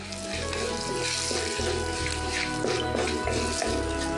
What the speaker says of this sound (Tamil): கடுகு நல்லா பொரிஞ்சு சீரகமும் நல்லா பொரிஞ்ச உடனே வெங்காயத்தை சேர்த்துக்கலாம்